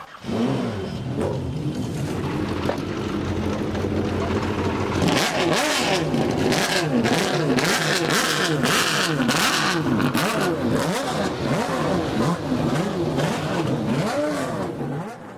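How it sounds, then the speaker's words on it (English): Formula Boss race car engines on the starting grid rev loudly and repeatedly, roaring up and down in pitch, with a steady rumble of idling engines underneath. "the sound of these cars firing up on the grid doesn't get your heart racing"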